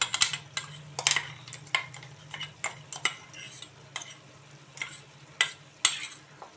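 Green chili paste being stirred into a bottle gourd curry in a pan, with a spoon scraping and knocking in an irregular rhythm over a low background hum and faint sizzle.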